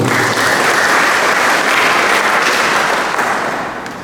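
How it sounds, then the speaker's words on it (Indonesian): Steady audience applause at a GMKI anniversary event and book launch, dense clapping that holds level for several seconds and then begins to fade. "tepuk tangan buat Pak Ibu."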